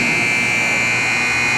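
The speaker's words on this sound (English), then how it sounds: "And the buzzer goes just a second too early." A long, steady electronic buzzer ends the first period of a U18 ice hockey game in an arena, one continuous loud tone held for the whole stretch with no voices over it.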